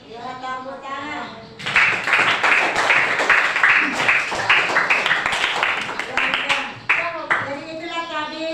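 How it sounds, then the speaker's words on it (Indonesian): A classroom of students claps their hands together during an Islamic cultural history lesson, a burst of loud, dense clapping that starts abruptly after a brief moment of speech and continues for several seconds. "Ya, tepuk tangan."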